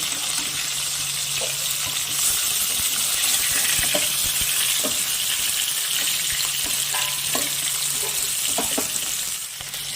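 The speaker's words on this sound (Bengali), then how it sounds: "মাছটাকে এখন আমি ভেজে নিব।" Fish frying in mustard oil gives a continuous crackling sizzle throughout, with occasional soft clinks and scraping sounds nearby.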